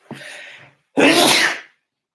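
A sharp inhaling gasp, a brief pause, then one loud, explosive sneeze up close.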